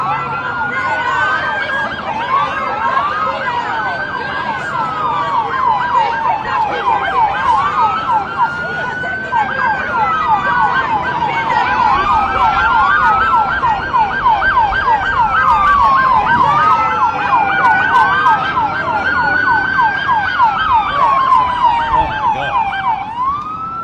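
Several police car sirens wail, rising and falling continuously, loud and overlapping, with traffic and crowd noise underneath at a street protest.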